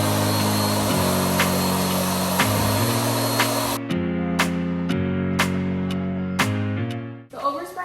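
An electric paint sprayer running in a basement, a loud steady motor hum with rhythmic pressure pulses and hissing bursts as paint is sprayed, cutting out near the end.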